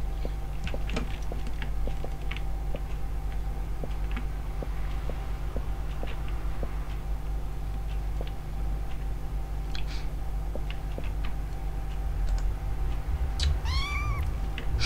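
A cat meows a few times inside a Minecraft-style block game, short calls scattered over a steady low hum and faint ticking, with a clearer rising meow near the end.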